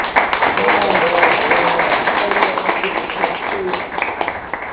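An audience at a socialist lecture in Volta Redonda gives a round of applause: a loud, dense wash of clapping that holds steady and slowly tapers, with voices talking underneath.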